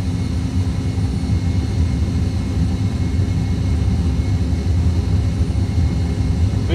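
Airbus A320 jet engines roaring through a crosswind take-off roll, a loud, steady, deep rumble with a broadband roar that holds evenly for the whole stretch.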